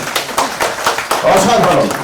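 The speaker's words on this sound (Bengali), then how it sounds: "আমি এই জন্য ওর জন্য একটা করতালি" An audience at a political gathering bursts into brief, loud clapping for a young leader named Tarek, with scattered claps building into a dense round while voices carry over it.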